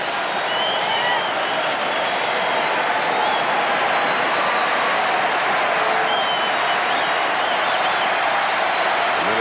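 Steady roar of a packed baseball stadium crowd at Game 7 of the 1991 World Series, Braves at Twins in Minnesota, a constant loud wash of cheering and noise that never lets up.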